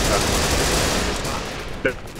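Rapid bursts of gunfire in a shooting video game, a steady dense rattle throughout with one sharper crack near the end, close and loud under a busy game background.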